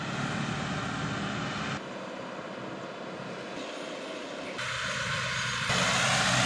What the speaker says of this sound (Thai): โรตารี่ใช้รอบ500นะครับขับด้วยเกียร์1